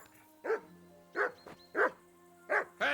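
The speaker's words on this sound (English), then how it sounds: "that barking's driving me nuts" Dog barking in the video game Kingdom Come: Deliverance 2, four sharp barks in an even rhythm about two-thirds of a second apart, close and clear over a quiet background.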